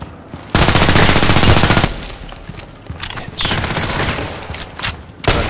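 Rapid automatic weapon fire in the online shooter Contract Wars, a loud sustained burst followed by several shorter bursts and scattered shots, close and alone with no talk.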